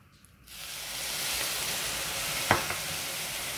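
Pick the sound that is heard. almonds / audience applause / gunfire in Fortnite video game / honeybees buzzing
almonds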